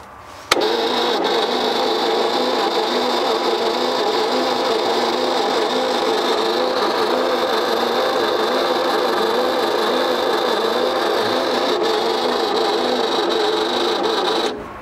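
The engine of a 1957 Chevy Viking truck, abandoned for 50 years, cranks continuously for about fourteen seconds with a steady, rhythmic whirring churn that never catches, then stops abruptly.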